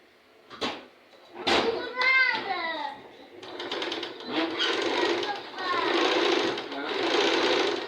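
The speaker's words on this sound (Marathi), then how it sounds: "ब्लाऊजचा पीस सरळ बाजूने आणि अस्तर त्यावरती टाकून शिलाई मारून घेत आहे" A sewing machine stitches a blouse piece with lining laid over it, running in close, loud bursts of rapid mechanical clatter separated by short pauses, while someone talks over it.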